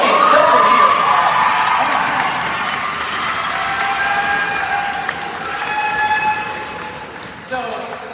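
Audience at a school band concert applauding and cheering, a dense wash of clapping that swells then slowly fades, with a voice talking over it.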